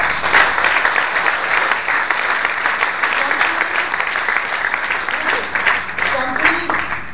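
An audience at a motivational talk breaks into dense, loud applause, many hands clapping together in a continuous roar that holds steady for several seconds with a few scattered cheers.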